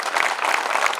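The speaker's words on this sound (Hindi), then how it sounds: "एक बार आप सब लोग इन कवियों के सम्मान में ताली बजाएं" Audience at a Hindi humorous poetry recital applauding the poets, a steady wash of many hands clapping at close range with no voices over it.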